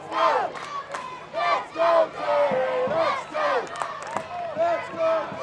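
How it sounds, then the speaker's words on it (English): A football crowd roars and chants at the Craig Stanfield Junior Cup final between Cleary Celtic and Enniskillen Rangers, with loud, rhythmic surges of massed voices swelling and falling. "The crowd is alive here after that goal on both sides."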